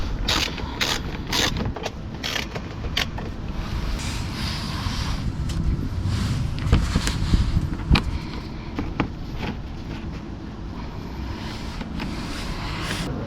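A socket ratchet undoes the undertray screws beneath an Audi A1 8X engine, with steady close clicking and mechanical rattling running throughout, a few sharper ticks and no talking.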